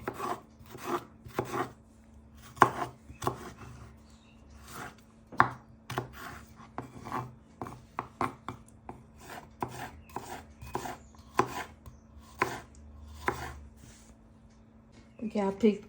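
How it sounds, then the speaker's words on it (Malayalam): A knife chopping capsicum on a board for a simple salad: quick, crisp, close strikes in uneven bursts with brief pauses, and no talking. "ഇനി ക്യാപ്സിക്കം അരിയാവേ."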